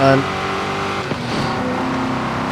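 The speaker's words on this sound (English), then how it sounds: "I'm revving it close to that because the engine wants to go there" A 2005 MG XPower SV-R's engine in Forza Horizon 5, held high near its roughly 7,000 rpm rev limiter, gives a steady, tonal drone with a brief dip midway, under someone talking.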